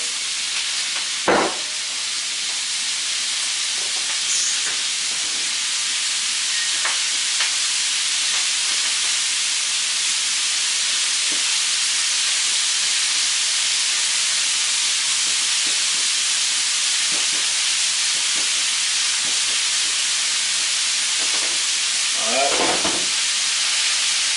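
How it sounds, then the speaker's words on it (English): Three pounds of onions sizzle steadily in a pan beside steak and mushrooms, a continuous broadband hiss with occasional louder crackles and utensil scrapes, close and alone without talk. "I'm going to go ahead and add in my onions, which this is 3 pounds of onions"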